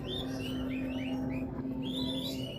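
A branjangan bushlark sings a series of high, sweeping chirps and rising whistled phrases over a steady low hum, fairly faint, with no talking.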